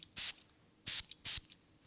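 A perfume bottle's sticky sprayer fires three short hissing bursts, the first alone and the last two close together, quiet and near with no talking.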